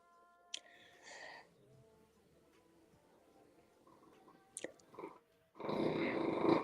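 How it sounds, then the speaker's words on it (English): A dog growls low and rumbling in a quiet room, with a few sharp clicks, ending in a loud, sustained rough burst. "That's my dog."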